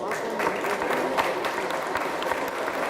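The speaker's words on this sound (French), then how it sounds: "Dernier applaudissement." A room of quiz contestants and spectrators at a competition quarter-final gives a final round of sustained applause, steady and moderately distant, with many overlapping claps and a murmur of crowd noise.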